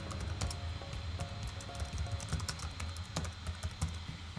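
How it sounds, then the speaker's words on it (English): Rapid keystrokes on a computer keyboard as a comment is typed into an online forum post page, steady clicky tapping with short pauses, close and moderately quiet over a faint low hum. "we can type in some text for a comment"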